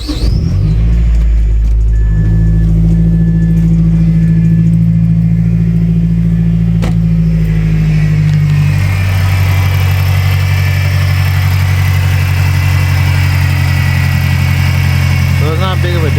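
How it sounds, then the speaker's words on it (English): A Mazdaspeed6 with a newly fitted intake cranks and fires, then settles into a steady, close, low idle rumble that runs on for the rest of the stretch. "So let me go ahead and open my door, start it up, so you can hear how it sounds."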